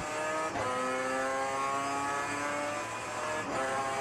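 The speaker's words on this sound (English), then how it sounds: "use the power of that big Mopar V8 to blast past once again" A Mopar V8-powered production race car roars at full throttle on a circuit, a loud, sustained engine note rising in pitch with brief dips at gear changes.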